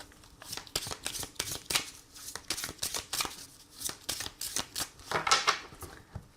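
Oracle des miroirs cards are shuffled by hand for a reading, a quick rhythmic series of close, crisp riffling slaps with no talking.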